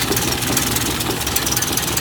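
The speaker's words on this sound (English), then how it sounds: "it starts up pretty nicely. Let's see here. So it's really, I mean, the motor sounds pretty good. It's got a little bit of a vibration" The engine of a 1930 Ford AA truck idles steadily, close and loud, a continuous low rumbling chug with a slight vibration running through it.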